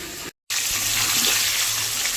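Steady rushing of tap water pouring into a bathroom bucket or tub before a bath, a broad continuous hiss that starts after a brief silent gap and runs on evenly and close.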